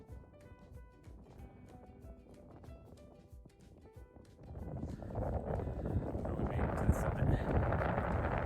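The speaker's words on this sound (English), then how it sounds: "How windy this is going to sound" Wind buffeting a microphone on a snowy Colorado Trail hike: a quiet start with faint steps, then a loud broadband rumble of gusts rises about halfway and holds to the end.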